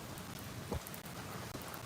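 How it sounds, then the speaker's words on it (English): Steady rain falls outdoors beside a car with a 5-liter V8, a soft, constant hiss with occasional nearby drops and brief dips, faint and unbroken, with no voices. "It's raining on my back"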